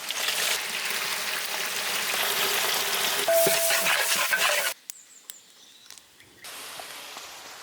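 Onions fry and get stirred in a hot pan for a chicken biryani, a loud steady sizzle with scraping stirs, then a sudden drop to a quiet spell with small clinks before a softer hiss returns.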